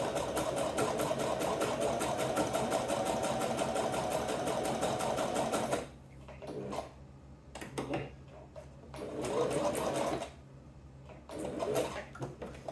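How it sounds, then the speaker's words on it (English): A sewing machine whirs in a fast, steady stitching rhythm for several seconds, then stops and restarts in shorter bursts with quiet gaps between. "Sewing machine doesn't work."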